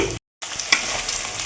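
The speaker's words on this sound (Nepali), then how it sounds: "अब मसलाहरू लगायो यसरी भुट्नुपर्छ" Ground turmeric, salt, chili, cumin and coriander powder sizzle and fry in a hot pan with a steady crackle, broken by a brief moment of silence.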